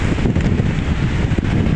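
Strong gusts roar and buffet the microphone in a continuous, rumbling rush.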